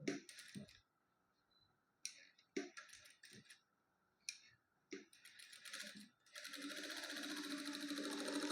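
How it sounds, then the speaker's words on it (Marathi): A sewing machine stitches pleats for puff sleeves in short whirring bursts separated by quiet pauses, then runs in one long continuous hum at the end. "ह्या पूर्ण आपल्याला शिवून घ्यायच्या आहेत"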